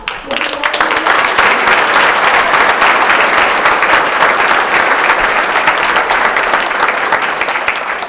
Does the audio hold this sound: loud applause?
yes